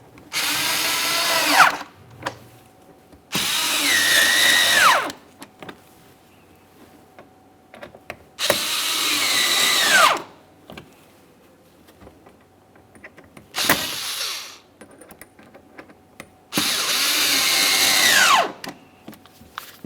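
A power drill tightens fog light mounting screws on a 2017-2024 GMC Acadia in five close, loud bursts of whirring, each lasting one to two seconds, with quiet gaps and small clicks between them.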